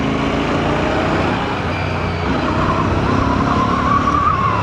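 A Royal Enfield Bear 650 motorcycle pulls away hard, its engine roaring loud and steady with heavy wind and road noise throughout.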